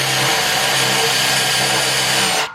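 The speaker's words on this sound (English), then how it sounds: "Drill technique where you basically drill into the rubber and walk the bit all the way around." A power drill whines steadily and loudly at close range, grinding continuously as it drills out a rubber bushing on a Toyota JZX100 Chaser rear end, then cuts off abruptly at the end.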